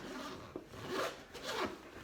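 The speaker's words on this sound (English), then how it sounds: "She has a side zipper pocket that is fully functional." The side pocket zipper on a large thrifted weekender bag is pulled in two or three quick rasping strokes, close and fairly soft in a quiet room.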